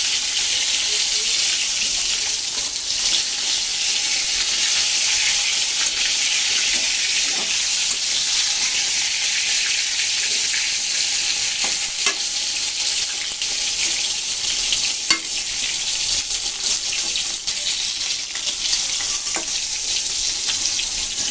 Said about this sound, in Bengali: তেল গরম হয়ে গেছে কড়াইতে। আমি এখন বেগুনগুলো দিয়ে দিচ্ছি।